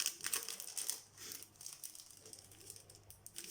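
Plastic packaging around a travel journal crinkles and rustles close by as it is opened, in quiet, irregular bursts that are busiest at the start and then thin out.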